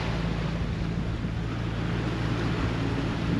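Hallberg Rassy 44 sailboat rolling through breaking ocean waves during a Biscay crossing, with steady broadband wash of water and wind noise on the microphone, continuous and fairly loud throughout with no talking.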